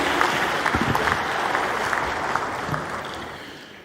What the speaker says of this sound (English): Please, a round of applause for them again.